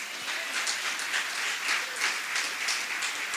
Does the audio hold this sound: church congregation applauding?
yes